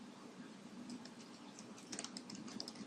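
Quiet typing on a computer keyboard, a soft, irregular stream of small key clicks, close but faint over a low background hum.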